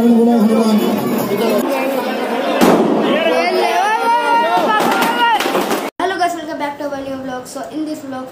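Firecrackers packed inside a burning Ravan effigy at a Dussehra celebration in a housing society, loud crackling bursts and pops amid a noisy crowd with voices and chatter throughout.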